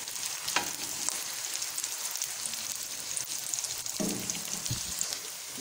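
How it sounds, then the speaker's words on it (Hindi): Onions fry in hot oil until light brown for a kachnar keema, giving a steady close sizzle with occasional stirring scrapes and clinks over the constant crackle. "और फिर हमने इसमें प्याज ऐड कर देने हैं। प्याज को हमने लाइट ब्राउन करना है"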